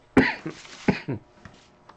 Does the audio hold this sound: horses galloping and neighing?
no